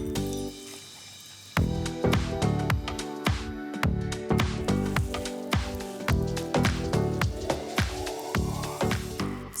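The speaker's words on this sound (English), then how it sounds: "and then we're going to knead it" Chhena dough for sandesh is kneaded by hand in a steady rhythm of soft, wet squishing presses, each push a close, moist squelch repeating about twice a second.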